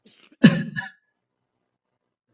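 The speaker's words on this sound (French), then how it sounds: "Je m'excuse car je tousse un peu" A single harsh cough close by, short and throaty, followed by silence.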